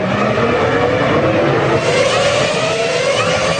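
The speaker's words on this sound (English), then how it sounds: "the rest of the field start the warm-up lap" Formula 1 cars from the 2002 season pulling away on the warm-up lap, a loud, continuous blend of racing engines rising in pitch with no talk over it.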